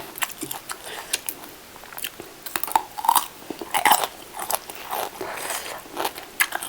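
Close crunchy eating of Isan-style som tam (tam sua) with crispy fried pork belly, with loud repeated bites and chewing crackles in a continuous, uneven rhythm.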